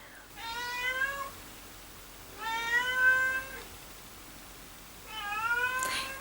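A house cat meows three times in separate drawn-out calls, each rising and falling, spaced a couple of seconds apart against a quiet room with no talking.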